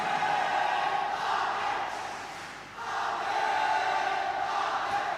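Audience applause fills a school debate hall at an inter-school debate meet: a steady, moderately faint wash of many hands that dips briefly midway and then swells again, with no voices over it.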